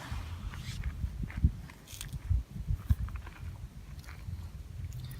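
Footsteps crunch through layered snow with a frozen crust at a New Zealand ski area, a few soft irregular crunching steps close by, fairly quiet and without talk.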